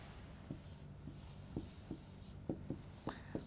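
Pen strokes scratch on paper in short, irregular taps and scribbles while someone writes down points for a maths problem, close and fairly quiet with no talk.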